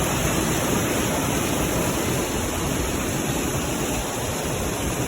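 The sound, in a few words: rushing water of the Tarapheni River, Belpahari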